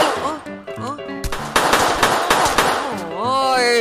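Gunfire from the video game Stick Em Up, a couple of sharp shots over game music with voices talking throughout.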